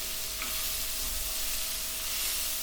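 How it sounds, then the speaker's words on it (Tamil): Chopped tomatoes hit a frying mutton curry base in a pan, giving a loud, steady sizzle and crackle that holds evenly throughout without any talking. "கட் பண்ணி வச்சுருக்கிற 2 தக்காளியை சேர்த்துக்கிறேன்."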